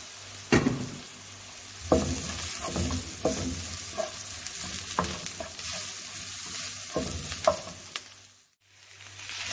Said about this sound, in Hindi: अब मैं इसको अच्छे से मिक्स कर लूँगी। मैंने मसाला और आलू को अच्छे से मिक्स कर लिया।